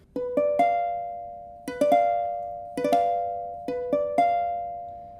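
Four diminished piano chords, each rolled upward note by note and left to ring, spaced evenly with short pauses between them.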